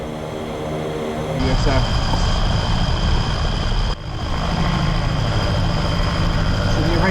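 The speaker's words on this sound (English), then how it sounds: "there goes some MiG-21s. Doing a flyby." MiG-21 jets in the DCS flight simulator game roar past in a flyby, a broad, loud engine rush that swells and holds across the clip while someone talks over it.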